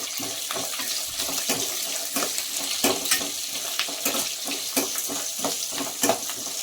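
Peanuts and curry leaves frying in a pan give a close, crackling sizzle with repeated sharp pops and bursts spread irregularly across the whole stretch, with no one talking.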